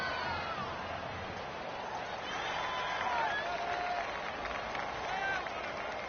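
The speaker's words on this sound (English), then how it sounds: "the crowd getting into it as we come up on a big 3rd down" A stadium crowd in a PS4 football video game swells with a broad, steady roar ahead of a big third down, heard at moderate level beneath a commentator's talk.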